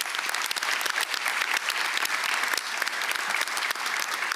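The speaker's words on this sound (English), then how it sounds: "A round of applause, please, for Seema." An audience at a college commencement ceremony claps steadily for several seconds, a dense, even round of applause with no voices over it.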